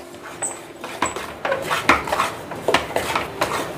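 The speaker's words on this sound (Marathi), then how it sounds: "ह्या पटकन आता हलवलं जात आहे." Besan flour roasting in ghee being stirred quickly in a pan, with repeated metallic clinks and scrapes of a spoon against the pan in an irregular rhythm, close and clear.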